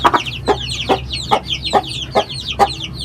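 Hens cluck in a steady rhythm while chicks peep in quick high chirps, close by on a quiet farm.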